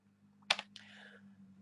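A single keystroke typing a number on a computer keyboard during a calculation, heard as a couple of crisp close clicks in an otherwise quiet room with a faint steady hum.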